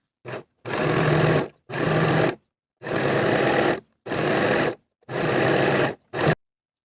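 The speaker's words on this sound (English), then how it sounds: "I'm going to sew my hem along the bottom of the garment as well as the bottoms of the sleeves." A sewing machine stitches the hem of a cardigan and the bottoms of its sleeves, running in six close, loud bursts of varying length, from a brief start to runs of about a second, separated by short quiet pauses.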